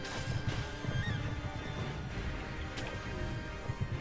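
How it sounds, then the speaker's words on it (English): A horse whinnies in the video game Sekiro: Shadows Die Twice, a mid-level neigh set within busy, dense game sound and low rumble that runs through the whole stretch. "Look at that horse."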